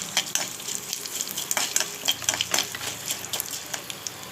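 Two dried red chillies go into hot oil where mustard seeds are already spluttering, producing close, rapid crackles and pops in quick irregular bursts over a bright sizzle.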